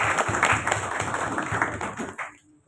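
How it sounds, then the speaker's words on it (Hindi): An audience claps for Naveed Butt at a gathering of a medical and chemists association, a dense, steady burst of hand claps that fades out after about two seconds, followed by a brief stray sound. "नवीद भट्ट साहब के लिए भरपूर"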